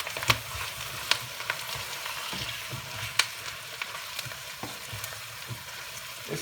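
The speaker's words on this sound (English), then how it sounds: "and seal the beef" Beef sears in a hot Dutch pot over turned-up heat, a steady close sizzle and frying hiss punctuated by occasional sharp pops and ticks throughout.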